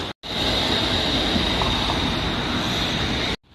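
A tram in Fukui City, Japan, produces a sustained loud rumble with a steady high whine, beginning and ending abruptly, with no speech.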